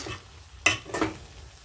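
Rice cooking in a pot is stirred with a spoon, two quick scraping swishes close up against a faint background hiss.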